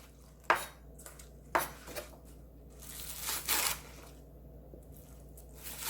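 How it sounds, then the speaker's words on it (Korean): A knife chops a large handful of green onions on a cutting board for radish kimchi, giving a few sharp, close knocks spaced apart, then a rougher scraping, with no speech. "쪽파 큰 한 줌 썰어 줄게요."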